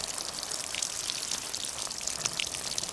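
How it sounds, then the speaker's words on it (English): Torrential rain drums hard on a DIY rain shelter for field recording, a dense, continuous hiss of close, loud drops with no pauses. "this is quite a torrential downpour on top of the shelter"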